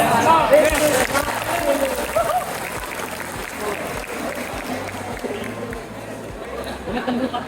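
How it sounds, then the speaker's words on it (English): High school students in an Indonesian classroom applaud steadily for several seconds, a dense wash of clapping mixed with excited chatter, loud at first and then easing slightly. "Applause."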